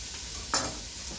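Diced onion sautés in a soup pot, a faint sizzle with one brief stirring scrape midway, heard alone.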